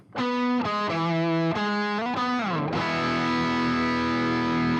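Heavily distorted electric guitar through a Boss ME-90 with the Uni-Vibe effect off plays several sustained notes, then bends down and settles into a thick, buzzing held chord, loud and alone.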